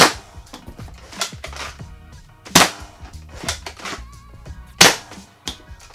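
A JET Blaster Katana clip-system toy blaster fired several times at close range, giving sharp, loud snapping shots spaced about two seconds apart with small mechanical clicks and rattles between them.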